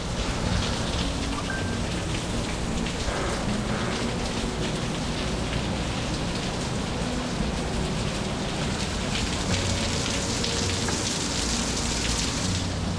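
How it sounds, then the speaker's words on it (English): Heavy rain pours steadily throughout, with a dense hiss drumming on surfaces near a boat in Port Charlotte during a thunderstorm, no distinct thunder crack standing out, and no talk. "it's pouring down rain, thunderstorms, the whole 9 yards"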